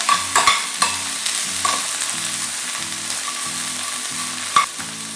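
Green mango and coconut chutney ingredients sautéing in hot oil in a pan, a continuous close sizzle broken by sharp clicks and scrapes of a spoon stirring, with no talk.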